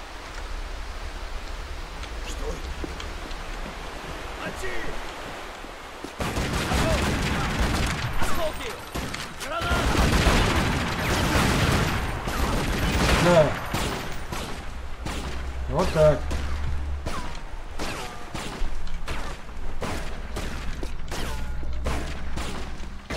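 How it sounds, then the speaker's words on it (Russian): Gunfire erupts in the Tomb Raider video game, scattered bursts of shots and impacts over a low background hum, moderately loud, with someone commenting in Russian over it. "Так, стрельба, осторожно."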